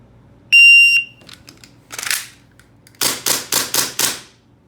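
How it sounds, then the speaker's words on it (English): Airsoft gun shots strike a wireless timing target, giving a long electronic beep first and then a few scattered hits. A quick run of five sharp, loud impacts follows, with no talking. "so hopefully it will pick up our airsoft shots"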